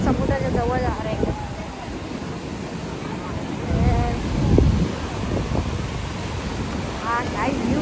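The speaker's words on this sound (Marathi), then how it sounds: "आता मी जवळ जाणार, समुद्राच्या जवळ जाणार आहे एकदम" Sea waves washing onto the shore at Bandra Bandstand, a continuous broad rush with swells under heavy wind buffeting, while a person talks over it at intervals.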